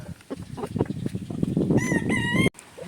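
Gamefowl roosters at a farm crow loudly in a drawn-out call, preceded by a run of clucking and scratchy fowl noises, then cut off abruptly.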